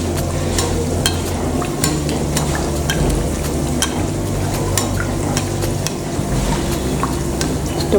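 Karanji pastries frying in hot oil, with a steady crackling sizzle and bubbling throughout plus frequent sharp pops and spatters, fairly loud and close.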